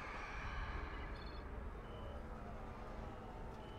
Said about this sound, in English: My watch is beeping.